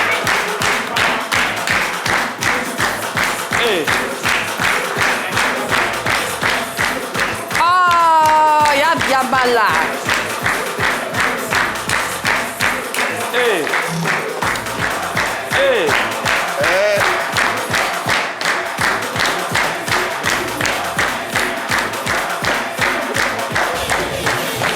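A crowd claps steadily and loudly throughout, rhythmic applause close up, with a few shouts and a brief voice breaking through partway.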